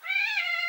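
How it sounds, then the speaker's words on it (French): A single short, tonal cat meow rings out clearly and fairly close, alone in an otherwise quiet room. "Je vis sous la domination de mon chat."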